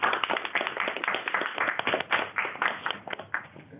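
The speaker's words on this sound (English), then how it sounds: "give her a round of applause." A small crowd at a global health research workshop applauds, a steady patter of clapping from many hands that lasts a few seconds and tapers off toward the end.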